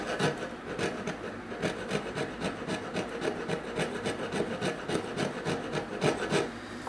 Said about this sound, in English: Going to do is just get in a little bit closer with the rasp.